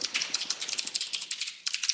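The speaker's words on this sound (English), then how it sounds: "Why am I typing this out?" Rapid, steady typing on a computer keyboard, close up, with crisp clicking keystrokes and a brief pause near the end.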